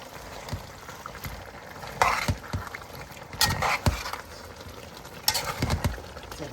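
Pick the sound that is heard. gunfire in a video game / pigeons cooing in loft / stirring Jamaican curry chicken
stirring Jamaican curry chicken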